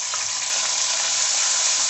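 Ginger garlic paste hits hot oil in a pan for soya chaap gravy, giving a loud, continuous hiss of frying that stays steady and close throughout.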